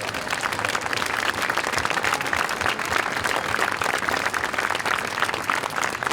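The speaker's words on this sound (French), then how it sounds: "Et je vous demande d'ailleurs de les applaudir très chaleureusement." A large crowd at a Paris rally for the release of Hamas hostages claps warmly, a steady dense wash of applause that holds at full strength throughout, with no speech.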